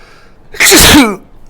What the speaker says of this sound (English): I always sneeze at this time of night.